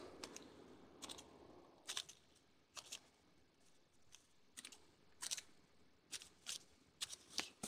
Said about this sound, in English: take your scissors, and you want to cut straight in all the way around it.